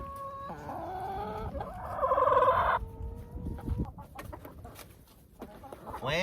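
Backyard chickens cluck and call close by during a dust bath, with one loud drawn-out squawk in the middle and scattered softer clucks and scratching noises around it.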